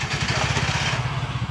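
A tuktuk's small engine idles with a fast, even putter, loud and close, its low chugging beat steady throughout with a rattling clatter above it and no talk.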